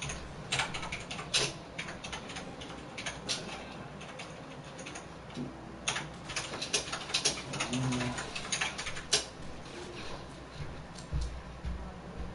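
Clicky keyboard typing during a snowy holiday GTA session, a busy run of close, uneven keystrokes and clacks continuing throughout with no talk.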